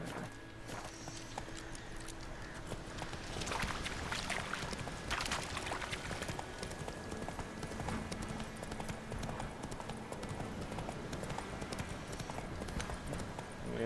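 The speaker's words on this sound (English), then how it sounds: "Run, Roach" Hooves clip-clop steadily as a horse gallops in The Witcher 3 video game, a continuous fairly loud rhythmic pounding that lasts the whole stretch with no talk over it.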